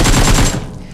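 Loud, rapid automatic gunfire from the mobile battle royale game BGMI, a dense burst of shots that thins out and fades after about half a second.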